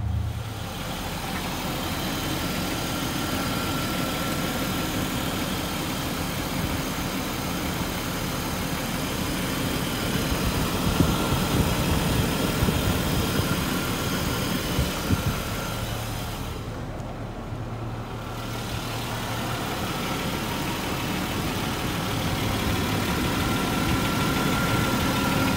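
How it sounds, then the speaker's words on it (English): A 1995 Jaguar XJS engine runs at a steady idle, a continuous low rumble with a slight swell in the middle, heard alone without talk. "I'm gonna get the engine started."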